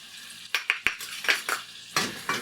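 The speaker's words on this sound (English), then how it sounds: "We're going to stir that around a bit and get it dissolved." A utensil stirring sugar into melted butter in a pan, a series of sharp scraping clinks against the metal, irregular and close, with a gentle sizzle underneath and no talking.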